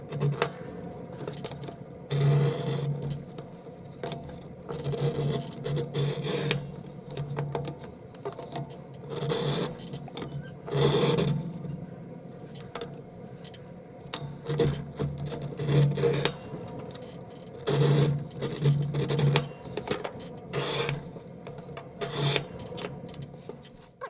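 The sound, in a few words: beveling leather edges of a holster strap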